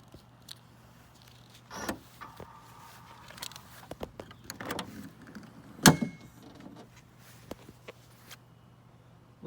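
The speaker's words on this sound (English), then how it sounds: "Let's get inside the trunk here." The trunk of a 2001 VW Cabrio is opened with a few scattered clicks, light rattles and jangles, then a sharp latch clack and thump around the middle, followed by quieter handling noises.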